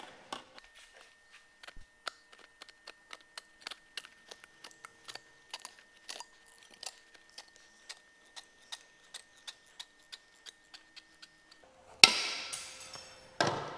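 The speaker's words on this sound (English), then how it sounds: "Trim this just by hand." Sheet metal for the A pillars of a 1939 Lincoln Zephyr is trimmed by hand, giving a long run of sharp, evenly spaced metallic snips and clicks, close and fairly quiet, ending in a louder rough burst.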